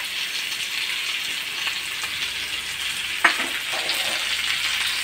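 Onion, capsicum and carrot lightly fry in a pan for a chicken kulhad pizza, giving a steady, even sizzle throughout with one sharp utensil scrape or stir knock partway through.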